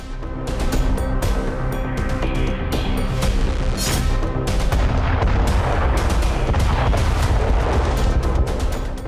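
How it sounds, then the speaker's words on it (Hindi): Continuous loud, rumbling blasts and booming thuds roll together for several seconds, a dense barrage of heavy explosions from a FOAB thermobaric bomb strike, without any voices. "एक विनाशक ब्लास्ट और इसके बाद बारूद से सना धुआं आसमान की तरफ उठता दिखाई दिया"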